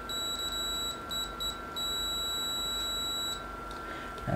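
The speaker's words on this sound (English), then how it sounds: "Let's test that with the continuity mode on my multimeter." A multimeter in continuity mode giving a high, thin electronic beep, sounding in a few short chirps and then one sustained tone, close and fairly quiet.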